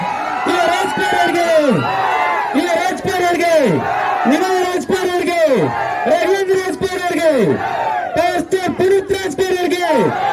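A crowd cheers and shouts for actor Yuva Rajkumar at a film promotion event in Haveri, a loud, dense roar of voices with rhythmic surges and yells, clapping blended in and hard to separate.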